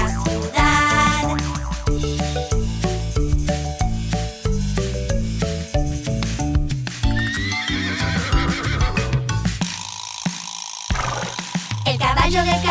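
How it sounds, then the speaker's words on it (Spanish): A carriage horse whinnies in a children's nursery song, its neigh rising over a loud, steady musical backing with bright melodic accompaniment throughout. "El caballo del carruaje hace ney, ney, ney por la ciudad."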